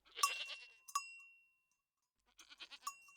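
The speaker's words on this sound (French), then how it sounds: "les chèvres bêlaient toutes plus fort les unes que les autres pour témoigner à Heidi leur joie" Goats bleat in a few short, wavering cries, then pause before a further burst of bleating, close and clear with no talk.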